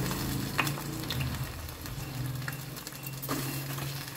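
Chopped onions and meal maker soya chunks frying in an oil-filled pan for curry, a steady close sizzle broken by occasional scraping stirs and crackling pops, heard alone without talk.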